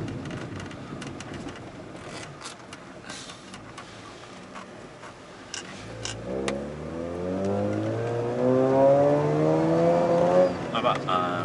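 A Mazda RX-8 rotary engine is driven hard from inside the car. Its rumbling drone climbs into loud revving with rising pitch through the gears, under intermittent talk.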